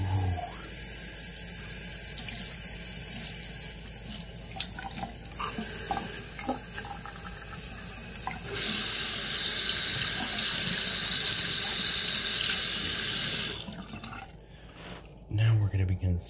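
Running tap water fills a sink as a shoe soaks before scrubbing, a steady broadband wash that swells louder midway and cuts off near the end, with a brief voice over it.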